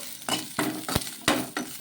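Chutney ingredients with tamarind and softened green chillies are stirred in a pan: about five distinct scraping strokes, close and fairly quiet, over a light sizzle with no voices.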